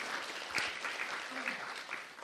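Church congregation applauding during a sermon, a steady wash of clapping with a few louder individual claps, and some voices faintly audible beneath.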